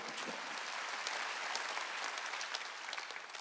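A church congregation at a Sunday worship service applauds in a steady, dense wash of clapping from many hands. It is moderately distant and continuous for a few seconds, with no voices over it.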